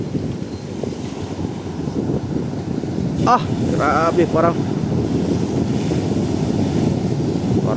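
Strong wind buffets the microphone over a continuous rushing roar of big ocean waves at sea, loud and steady throughout, with a voice speaking briefly in the middle.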